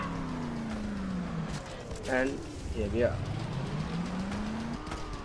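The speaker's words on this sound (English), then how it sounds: "Yeah, I'm driving a car." A car engine revs and shifts through gears in Just Cause 2, with rising and falling tones and a couple of bursts of gunfire in the middle, while someone talks over it.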